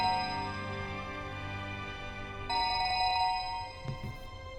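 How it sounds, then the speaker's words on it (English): Maria's cell phone rings in the video game 428: Shibuya Scramble, a steady electronic tone pattern sounding alone that shifts to a brighter melody partway through, then stops with a brief click. "Abruptly, Maria's cell phone rang in my pocket."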